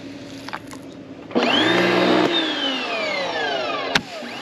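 A Karcher K1700 Cube electric pressure washer, cleaning a Rivian R1T, has its pump kick on abruptly to keep the pressure up. It gives a loud, steady motorised whine that holds for a few seconds before a sharp click near the end.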